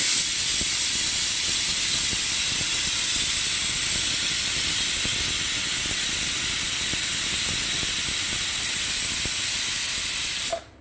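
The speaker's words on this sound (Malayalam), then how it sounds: "ബീഫ് ആകുമ്പോൾ ചിലപ്പം അഞ്ച് വിസിലും മതിയാകില്ല ഒരു ആറ് വിസിലായി" A pressure cooker whistles as it vents steam over beef curry on the stove, a loud continuous hiss holding steady for about ten seconds before cutting off abruptly at the end.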